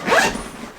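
A zipper on a Veilance Nomin bag is pulled open in one quick, close, rasping stroke that tails off within a second.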